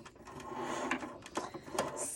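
Sewing machine running in a home craft room in brief bursts, stopping and starting with small clicks and handling knocks, close by and fairly quiet, without speech.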